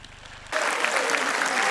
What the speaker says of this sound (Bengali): সবাই মনিরুল ইসলাম জীবনের জন্য একটি জোরে করতালি দেব